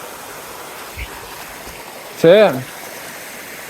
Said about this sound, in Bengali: এই ঝর্ণার আওয়াজ আইতাছিল ওইখানে